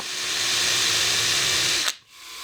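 A power drill with a brad point bit whirs steadily into scrap wood for nearly two seconds, then cuts off abruptly, leaving a brief quiet tail.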